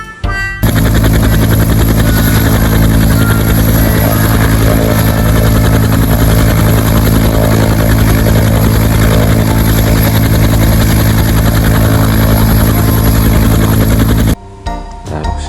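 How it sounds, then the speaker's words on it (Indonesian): Loud, steady whirring of a toy military helicopter sound effect with a rhythmic rotor chop, running continuously for about fourteen seconds before a brief break and a short resumption, with no talking. "Ada helikopter militer."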